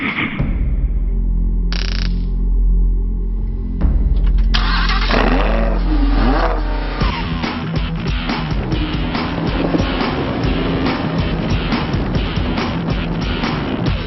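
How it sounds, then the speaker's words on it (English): A Lamborghini Huracan engine cranks and fires up loudly, then revs in sharp bursts before settling into a strong, rumbling idle, heard up close with no talking. "Let's drive the Huracan and check the tech."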